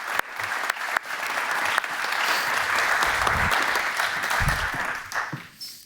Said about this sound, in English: Give them a round of applause as they make their way back in.